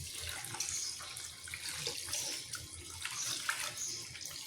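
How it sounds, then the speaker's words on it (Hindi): Four glasses of water are poured into a cooking pot of mutton paya, making a steady, fairly faint splashing rush with no talking. "इस वक्त मैं इसमें ये 4 गिलास पानी डाल रही हूँ।"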